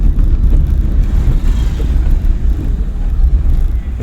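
A car engine rumbles steadily during a driving-school lesson as the learner brakes lightly, depresses the clutch and moves from neutral into second gear, a loud and continuous low drone with no talk.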